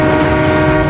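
A loud, sustained steam train whistle blares for under a second, steady and close.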